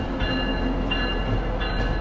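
A White Pass train passing a lake trail in Alaska, a steady loud rolling rumble of rail cars with faint high squeals of wheels, continuous and close, with no talk.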